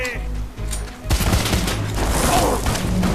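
Rapid gunfire bursts in the shooter game Wanted: Weapons of Fate, dense overlapping shots filling most of the clip, with a voice talking over the action.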